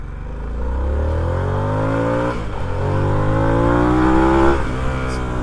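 A Harley-Davidson Sportster S motorcycle engine revs hard while riding, loud and close, climbing through the RPMs in two long pulls with a brief dip between them, steady wind and engine roar throughout.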